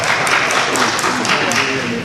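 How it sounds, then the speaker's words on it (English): An audience at a panel discussion applauds, a dense steady wash of many hands clapping that fills the room with no pauses, with a voice speaking over it. "then you can all clap"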